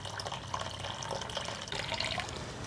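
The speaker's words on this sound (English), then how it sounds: "pour them again into the settling container" Water carrying ochre pigment pours into a settling container, a close, steady splashing trickle with small bubbling drips, fairly quiet and continuous with no talking.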